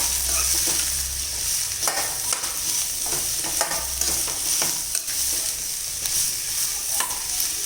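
Beetroot pieces stirred with half a spoon of rock salt in a pan, giving a steady scraping and soft sizzle with repeated sharp spoon strokes against the metal, heard alone.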